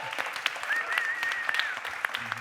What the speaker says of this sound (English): If we could give an enormous, inappropriately loud, raucous round of applause for our incredible...